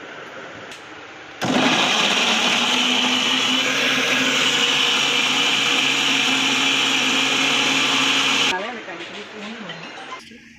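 A mixer grinder pulverises garlic, green chillies, tomatoes, chilli powder and salt for tangy tomato rice. It gives a loud, steady roar that starts abruptly, runs about seven seconds, then cuts off, with quieter handling noise before and after.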